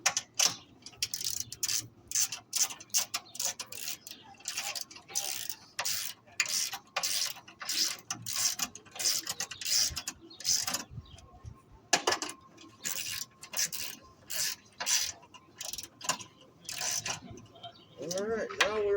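Ratchet work tightening wheel or brake bolts on a 2010 Toyota RAV4 during a front brake job, rapid clicking strokes in quick irregular bursts close by, with brief pauses between bolts.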